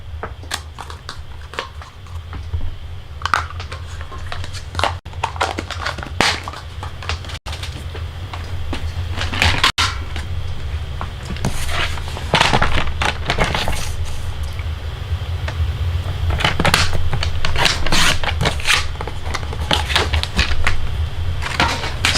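Scissors or a cutter slicing four inches off a piece of paper for a card-making project, giving irregular crisp snips and scraping crackles, close and fairly loud over a steady low hum.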